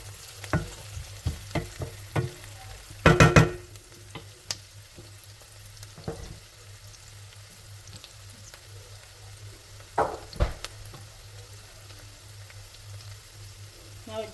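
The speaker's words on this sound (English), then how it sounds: "make sure the onions are browning, so I need them to cook a bit more." Onions fry and brown in a pan with a soft, steady sizzle, broken by a few sharp clatters and knocks of stirring, including one loud burst of scraping near the start.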